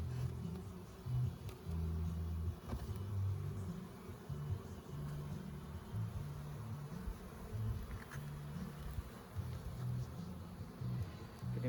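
Honeybees buzz around an open backyard hive during an inspection, a soft continuous hum with pulsing low drone throughout, fairly faint.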